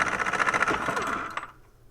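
A pneumatic impact wrench on low air pressure drives a strut bolt on a 2005 Nissan Frontier during a Bilstein shock install. It gives a loud, close, rapid hammering burst that fades and sputters out after about a second and a half.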